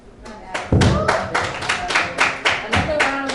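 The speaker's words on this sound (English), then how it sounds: "Another round of applause for these lovely ladies that we have." A short burst of applause at a women's radio show event, with a few people clapping in uneven, thumping claps, fairly close and moderately loud.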